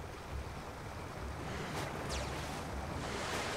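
A waterfall in the video game Serious Sam 2 rushes steadily as a broad, soft, continuous wash of falling water at moderate level, unbroken by talk.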